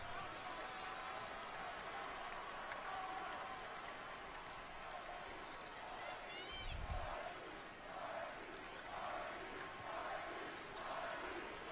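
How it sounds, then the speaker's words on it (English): A busy indoor basketball crowd roars steadily with rhythmic chanting of RMU swelling toward the end, a sharp whistle-like squeak and a thud cutting through midway. "I love the crowd and the chanting of RMU in this stretch."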